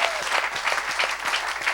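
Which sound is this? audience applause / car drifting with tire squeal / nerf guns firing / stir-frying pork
audience applause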